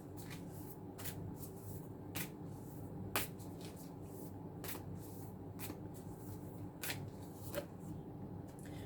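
Tarot cards are shuffled and drawn during a reading, producing a series of sharp, close riffles and slaps at irregular intervals over a low, steady room hum.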